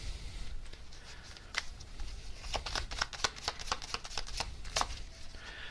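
Tarot cards are shuffled and drawn by hand, giving a run of quick, crisp riffling snaps and flicks close by that grow denser toward the end, with no talking over them.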